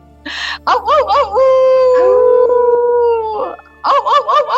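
Several people imitate wolf howls together, gliding and wavering vocal tones in three-part rounds, a short one at the start, a long sustained howl in the middle, then wavering howls again at the end.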